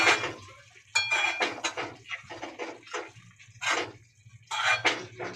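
Carrot halwa with mawa is stirred in a pan, giving close, repeated scraping and clinking strokes of a spoon against metal in uneven bursts, with no talking.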